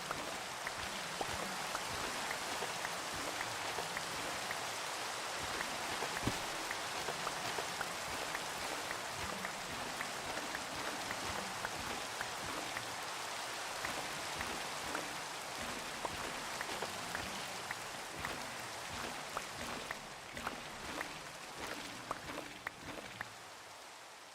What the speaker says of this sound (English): I do wish it would stop raining.